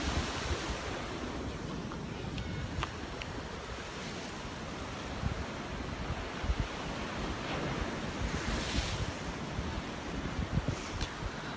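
Ocean waves and surf on the Sydney coast, a continuous wash of breaking water with buffeting wind noise on the microphone and occasional louder surges.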